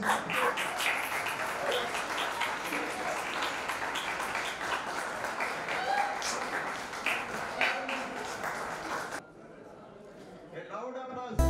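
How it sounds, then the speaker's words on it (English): An audience applauds loudly at an LL.M fest held at ANU, a dense, steady clapping that fills most of the stretch before cutting off abruptly near the end, leaving quieter room sound and a brief voice. "A loud applause, my dear friends."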